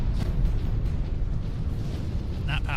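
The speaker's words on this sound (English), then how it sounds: "It's still crazy to me that my punches cause explosions." A rumbling explosion from a punch in Warhammer 40k: Space Marine, heavy and sustained, with low booming rolling through the whole stretch.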